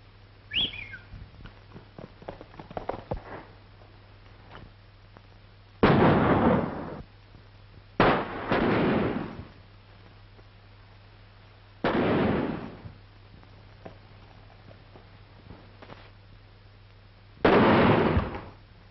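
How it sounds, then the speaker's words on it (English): Several loud gunshots fired at a Palomino horse on an open range, spaced a few seconds apart, each a sharp burst with a rough, rolling tail, with old film-soundtrack hiss and no speech. "Look out, I'm going to take a shot at him."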